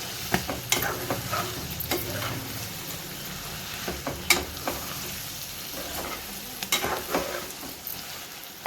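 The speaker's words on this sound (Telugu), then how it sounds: "బోటి అయితే నూనెలో ఫ్రై అయింది కదా, ఒకసారి కలుపుకోవాలి" Tripe (boti) being stirred as it fries in oil in a pressure cooker pan, with repeated scraping strokes over a steady sizzle, close and moderately loud.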